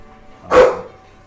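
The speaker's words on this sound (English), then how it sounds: "dogs start barking all over the place" A single sharp dog bark from a soundboard effect rings out alone, loud and close, then fades quickly into near silence.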